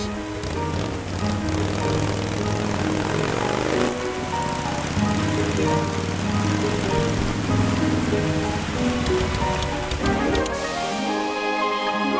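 Steady rain falls and drips from a ceiling in a cartoon, a dense continuous patter filling the scene with a low droning hum underneath, no voices.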